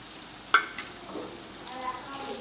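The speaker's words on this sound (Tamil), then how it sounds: "தாளித்ததோடு சேர்த்து தேங்காய் துருவலையும் மிக்ஸ் பண்ணி விட்டுப்போம்" Grated coconut stirred into a sizzling tempering in a pan, with a soft steady fry and a couple of light spoon knocks at the start, quiet and close.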